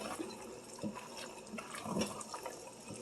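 Water runs steadily into a Dutch oven set to soak after cooking, a continuous close splashing fill with a few louder gurgling surges, no voices.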